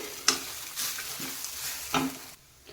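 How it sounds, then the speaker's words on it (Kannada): Coriander leaves dropped into hot oil for an akki rotti chutney, giving a close, bright sizzle with a few stirring scrapes across a short burst, no voices. "ಇಲ್ಲಿ ಸ್ವಲ್ಪ ಕೊತ್ತಂಬರಿ ಸೊಪ್ಪನ್ನು ಕೂಡ ಹಾಕ್ತಾಯಿದ್ದೀನಿ ಇದರೊಳಗಡೆ ಅದು ಕೂಡ ಎಣ್ಣೆಯಲ್ಲಿ ಫ್ರೈ ಆಗಲಿ"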